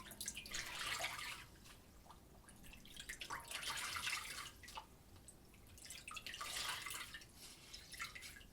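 A wet cloth is soaked and wrung out in water, giving three long bursts of splashing and dripping water separated by quieter, drippy pauses. The sound is close and has no talk.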